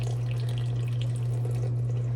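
Alkaline water poured out for sourdough dough, 315 grams, makes a steady close rush and trickle throughout, over a low constant hum.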